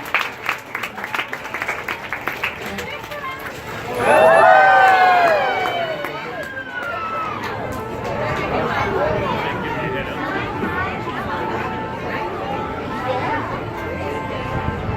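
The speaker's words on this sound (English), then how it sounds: "give her a big round of applause" At a marine park show, a crowd claps for several seconds, then a swell of cheering and high whistling rises and settles into crowd chatter, all at moderate distance.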